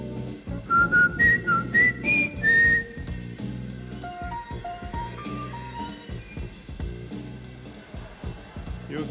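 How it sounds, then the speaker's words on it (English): An audience at a harmonica championship whistles a simple rising and falling melody together over a backing of music, loud and sustained, then continuing in short phrases. "everybody whistle with this."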